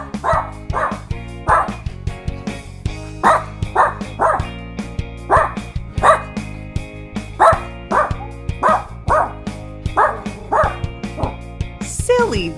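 A dog barks repeatedly and loudly nearby, a steady series of yappy, rhythmic barks roughly every half second to second, with some whimpering tones and people talking underneath.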